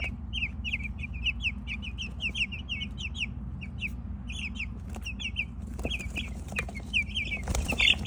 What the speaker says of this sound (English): So we ended up with 18 chickens total.